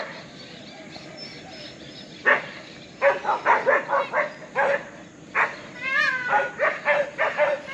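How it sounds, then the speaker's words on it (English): Dogs bark and yip in quick bursts at peacocks roaming outside a property in Puerto Rico, several sharp barks clustered together with whimpering and a brief high bird-like call amid them, moderately near. "Dogs just realized the peacocks are out."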